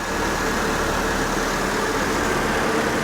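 A car engine idles roughly at a steady, dense drone, close and continuous, with slight unevenness as it threatens to stall.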